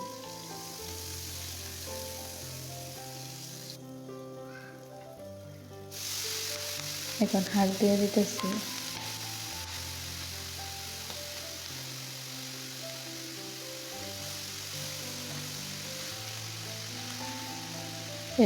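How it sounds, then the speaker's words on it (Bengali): Chopped onion and green chili sizzle in hot oil for fried leafy greens, a continuous close crackle with a brief louder burst of spattering midway, while a person talks over it. "শাক ভাজি করব তাই ফ্রাই মানে পেঁয়াজ কুচি আর কাঁচামচ কুচি দিয়ে দিলাম"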